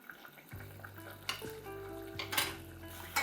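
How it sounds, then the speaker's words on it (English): A utensil stirs rice with tomato sauce in a pot for traditional vegan Mexican rice, with clinks and scrapes against the metal over a faint sizzle and a low steady hum. "we're going to stir and stir and stir until the tomato sauce has reduced a bit"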